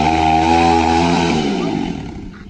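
A Yamaha YZ250 two-stroke dirt bike with a worn clutch roars loud and buzzy at high revs for a small burnout, then tapers off.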